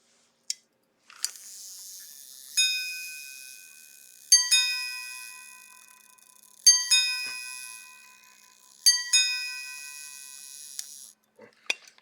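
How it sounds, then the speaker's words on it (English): A quarter repeater watch strikes its gongs: one single tap for the hour, then three two-note ding-dong quarter chimes, each bright and ringing with a slow decay, close and clear in a quiet room. "It is a quarter repeater, so first it hits the hours past, and then the amount of quarters passed"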